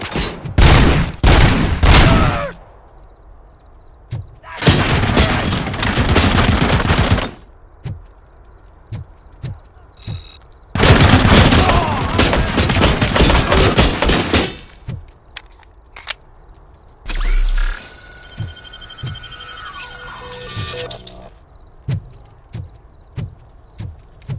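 Gunfire in Robocop: Rogue City comes in several loud, dense bursts of rapid shots, separated by short quieter gaps, with crackling debris and impacts between the volleys.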